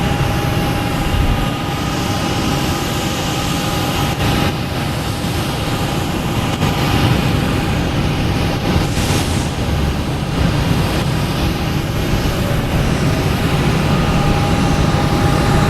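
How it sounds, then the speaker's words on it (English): A Lufthansa Airbus A380 jet approaching Boston Logan Airport on its landing run, heard as a steady, loud, sustained engine roar that holds without pause. "Lufthansa A380 coming in from Munich."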